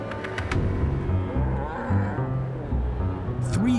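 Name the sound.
cattle lowing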